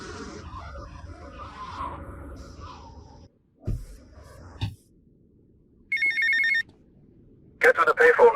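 A payphone rings in the video game GTA Vice City, with two short bursts of electronic ringing in the latter half following game dialogue and sound effects.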